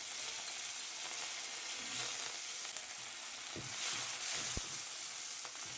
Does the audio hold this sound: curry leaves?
yes